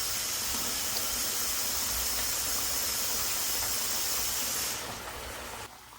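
Potatoes fry in hot oil as a steady, dense sizzle and hiss that runs close and loud without a break, then drops somewhat in level near the end.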